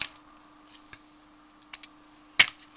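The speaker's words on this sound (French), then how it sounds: "Là, je vais le couper là." A few sharp, close snips of scissors cutting material for a no-sew parasol, with quiet pauses between the cuts and no talk.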